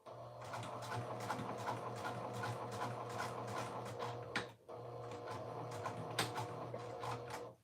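A sewing machine stitches a dress seam in steady bursts, running forward and then backstitching, with a brief pause midway before the close, rhythmic stitching resumes.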